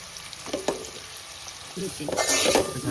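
Masala of tomato, garam masala, turmeric and red chili powder stirred and frying in a pan, with a steady sizzle under scraping spoon strokes that grow louder and busier toward the end; no talking.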